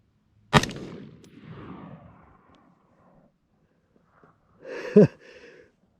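Two sharp rifle shots from a Colt 90's HBAR with its sear block removed and a new Velocity trigger fitted. Each crack rings out with a short echoing tail, several seconds apart.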